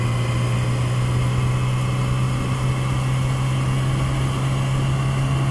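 A newer motorcycle's engine, ridden off the throttle, holds a steady, loud droning hum with a deep constant tone and no talk.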